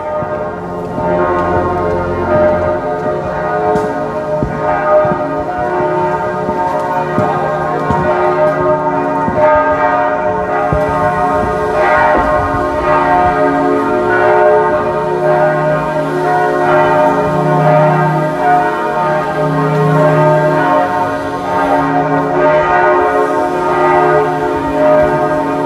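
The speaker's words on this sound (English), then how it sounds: "Let's go outside to catch the bells." Church bells ring outside in Paris, a rich, continuous peal of overlapping tolls sustained loudly for over twenty seconds with no talk.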